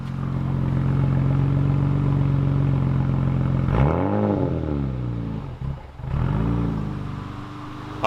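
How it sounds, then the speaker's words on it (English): Toyota Hilux pickup with a swapped 1JZ engine idles steadily and close by, a low smooth rumble that dips briefly midway before settling back into its even idle. "It's hilarious how much this thing just sounds like a 22R or something sitting here idling away."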